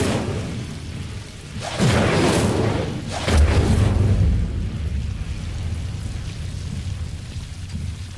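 The Incendio fire spell cast in Hogwarts Legacy: two deep, booming whooshes of flame a second or so apart, loud and close, rumbling and fading into a low background roar.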